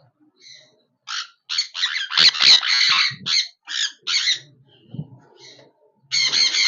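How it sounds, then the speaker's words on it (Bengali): Sun conures in an aviary give harsh, shrill squawks in a rapid series of bursts, loud and close, with short pauses between the calls and a brief lull before a final sustained squawking burst. "তো আমাদের সানকনুরগুলো এবার বেরিয়ে আসবে।"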